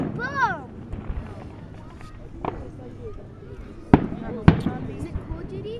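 Fireworks on the Fourth of July: a whistling rise, then two sharp, loud bangs close together, with people talking and reacting nearby.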